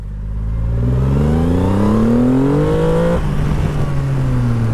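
A Triumph Rocket 3 GT motorcycle engine pulls hard through the gears on a wet road, rising in pitch then dropping at a gear change before climbing again, loud and close with no talking.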